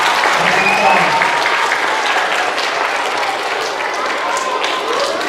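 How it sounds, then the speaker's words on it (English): School assembly audience at a middle school applauding together, a loud, dense, steady burst of many hands clapping with some cheering voices mixed in, lasting the whole stretch. "give her a round of applause."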